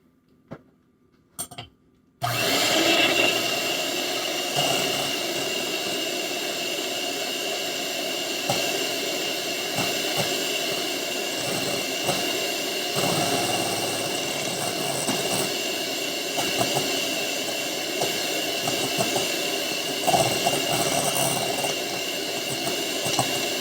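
An electric kitchen mixer starts after a couple of soft knocks, then runs with a loud, steady motor whir that has a slight rattle and continues unbroken to the end.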